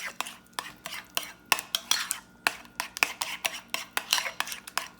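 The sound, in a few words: stirring sugar into cheesecake topping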